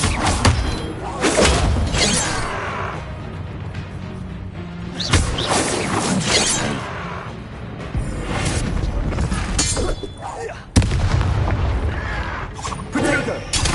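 An Expelliarmus spell cast in the Hogwarts Legacy video game: sharp crashing, shattering impacts strike repeatedly amid booming thuds and ongoing combat noise, with several loud hits spaced across the fight.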